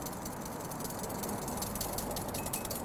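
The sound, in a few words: whisking oil into an emulsion for salmon burger sauce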